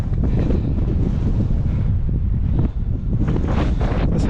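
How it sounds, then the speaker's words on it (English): Strong wind buffets the microphone on a hilltop hike near Ivybridge and Butterton Hill, a loud, continuous rumbling roar with gusty surges, close and unbroken, with no talking. "it's still quite breezy"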